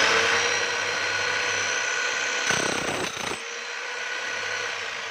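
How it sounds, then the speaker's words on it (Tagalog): A DeWalt D25899 10 kg demolition jackhammer runs steadily with a loud, continuous hammering roar, a brief harsher burst partway through, then a slightly lower steady run to the end. "ang model nito ay D25899, 10 kilos na jackhammer ng DeWalt"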